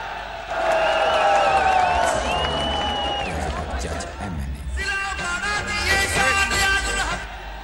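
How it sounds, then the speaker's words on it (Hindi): A rally crowd at a political jalsa in Okara cheers, whoops and claps for an arriving speaker, a loud sustained roar with whistles and shouts throughout, rising again in a second burst. "आप सब तालियों और शोर के साथ वेलकम करेंगे चौधरी रियाजुल हक"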